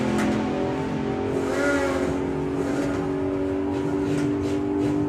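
Supercharged Hemi Hunter outlaw drag car making a run at a drag racing event, a loud sustained engine roar with a droning harmonic tone that holds steady and close throughout.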